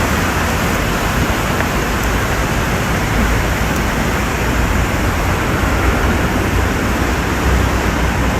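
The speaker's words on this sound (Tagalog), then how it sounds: "Yun yung tubig ng agos ng tubig talaga, maagos na maapaw na siya" Fast-flowing, overflowing floodwater in Benguet rushes in a loud, dense, unbroken roar, close by and steady from start to end, with no voices.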